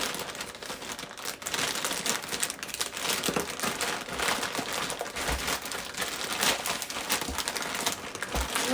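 Plastic packaging from a mail-order fabric haul crinkles and rustles continuously up close, steady and fairly loud for several seconds with occasional sharper crackles.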